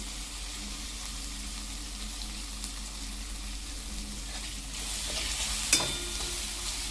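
Turmeric and spices sautéing in a pan for a hadga flower vegetable dish make a soft, steady sizzle that swells toward the end, with one sharp clink of a utensil, and no voices.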